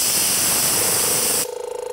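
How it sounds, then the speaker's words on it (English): Pressurized air hisses loudly and steadily out of the release valve on a battery-powered IK e-foam car wash sprayer's compressor, then cuts off abruptly, leaving a quieter electric motor hum. "I'm going to go to the release valve and I'm gonna release some pressure"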